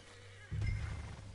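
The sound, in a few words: horse whinnying in Red Dead Redemption 2 video game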